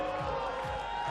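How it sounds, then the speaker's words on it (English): French crowd cheering at a BMX freestyle spine ramp pro men's final in Montpellier, a dense sustained roar of many voices, loud and continuous across the short moment. "Oh, the crowd, I love it. I mean, when the French are riding, the French get loud."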